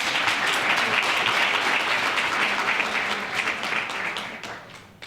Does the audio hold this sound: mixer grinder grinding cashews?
no